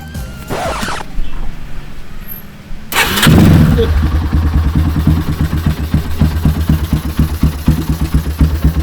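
A 2007 Yamaha Scorpio Z 225 motorcycle starter whirs briefly, then the engine catches and settles into a loud, rapid, steady idle thumping close by.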